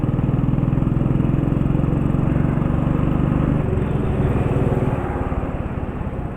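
A Royal Enfield Bullet motorcycle climbing through hill roads, its engine producing a steady, close, low thumping drone with a rhythmic pulse that slackens slightly near the end, with wind rush over the rider's helmet.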